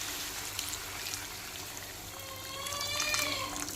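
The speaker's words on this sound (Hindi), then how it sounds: "थोड़ा सा गर्म पानी मिलाएंगे" Hot water is poured into simmering chicken masala gravy, making a steady, moderately quiet trickling and splashing sound that swells slightly toward the end.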